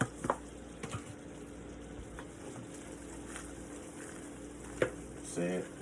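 Ginger stirred into cream cheese in a hot pan gives a faint, quiet sizzle broken by a few sharp clinks and scrapes of a utensil, ending in a short burst of bubbling.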